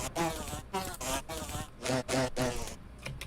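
A carrier hornet in the Wizard101 video game buzzes in a series of loud, close, pulsing bursts, each with a wavering insect-like drone, separated by short gaps.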